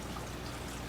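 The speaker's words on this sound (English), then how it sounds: "we're going to take our hot and we're going to pour it slowly" Hot ginger beer mixture with peppercorns, chili flakes and garlic bits poured slowly from a small pot over ice, a steady, close liquid splashing that runs unbroken through the short moment.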